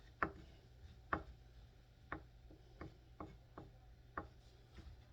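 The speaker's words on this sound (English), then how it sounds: "take your knife, crush those match heads up" A knife blade crushes match heads on a hard surface, making a series of sharp, quiet, close crunching taps spaced roughly half a second to a second apart.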